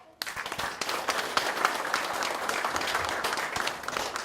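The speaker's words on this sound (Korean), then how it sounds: "힘찬주의 선언에 여러분께서 박수로 화답을 해주셨습니다" A crowd at the inaugural ceremony of an anti-corruption civic federation in Daejeon breaks into applause after a brief quiet start, sustained clapping with some sharper individual claps standing out before it begins to thin near the end.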